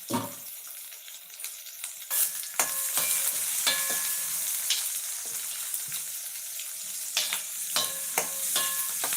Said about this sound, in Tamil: வெங்காயம் நல்லா ப்ரௌனாக வரட்டும்